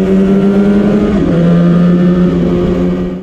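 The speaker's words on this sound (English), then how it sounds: "If you listen carefully, at certain settings, you can hear the engines synchronize." Two Yamaha RZV500 V4 two-stroke motorcycle engines rev together, loud and close, their buzzing tones droning in near-synchronized harmony for a few seconds with no speech.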